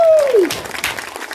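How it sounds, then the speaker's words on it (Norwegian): A crowd applauds a performer at a show in Horten, Norway. A brief burst of clapping follows a falling whistle-like tone, with crowd noise mixed in. "En stor applaus til deg."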